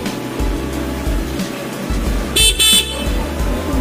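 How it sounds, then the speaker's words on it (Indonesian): Stock horn of a Honda Vario scooter-style motorcycle honks in two short close blasts, the second slightly longer, over a steady idling engine rumble. "Ini dia klakson standarnya masih aktif ya."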